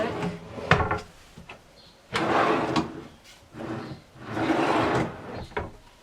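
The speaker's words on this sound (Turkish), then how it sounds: "Burada üç tane çekmecemiz var. Şu şekilde açılıyor. Bunlara sürgü aldık." Wooden caravan cabinet drawers on sliding runners are pulled open and pushed shut several times, each movement a close, rumbling slide ending in a soft knock, with short pauses between.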